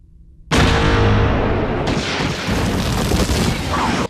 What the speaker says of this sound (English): they don't make any sound at first, and then finally erupt into a nuclear space explosion